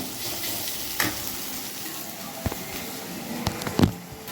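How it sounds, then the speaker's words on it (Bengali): Mixed vegetables fry in a pan for a breakfast pasta dish, giving a soft continuous sizzle broken by a few scraping stirs of a spatula, quiet and close with no talking. "আগে সবজিগুলো একটু ভাজা ভাজাবো, এখনও তো ভাজা ভাজা হয়নি"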